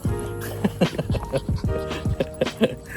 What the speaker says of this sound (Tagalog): Kahul ni Manong yun eh.